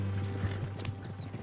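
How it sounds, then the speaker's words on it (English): Horse hooves clip-clopping at a steady trot in the Red Dead Redemption 2 video game, a continuous rhythmic patter over a low droning background at moderate volume. "can we move this horse a little faster"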